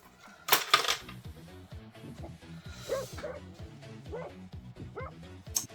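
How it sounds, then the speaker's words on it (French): A dog yips and barks in short bursts, fairly close, mixed with small clicks and clatter, while someone in the room mentions the dog in passing. "Alors, qui a amené le chien?"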